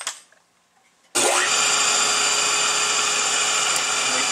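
A red rubber floor sander drum spins at speed, a loud steady whine and rush that starts abruptly after a quiet moment, as the edges are worked against a wooden block faced with 40 or 50 grit sandpaper.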